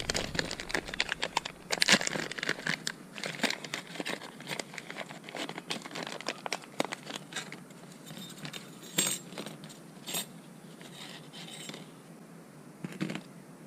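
A bag of chainsaw parts for a Farmertec MS440 build crinkles and rustles up close, with small hard pieces clinking and jangling inside in irregular bursts.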